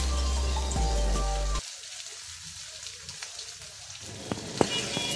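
Marinated chicken pieces sizzle in hot oil in a pan over high heat, a steady crackling hiss that starts loud and settles into a quieter fry with occasional pops.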